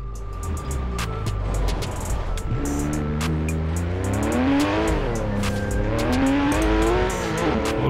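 A rally car in Forza Horizon 4 roars continuously close up, its engine revving up and down through gear changes along winding roads, with occasional tire squeal and no talking.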